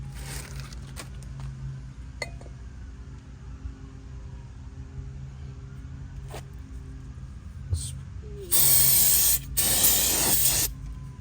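Two loud bursts of aerosol spray hiss onto a new brake rotor for a Honda Integra near the end, following quiet workshop background with a few small clicks and knocks.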